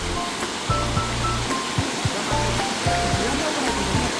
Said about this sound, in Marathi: थोडंसं पुढे चालत आल्यानंतर तुम्हाला हा पाण्याचा प्रवाह पाहायला मिळतोय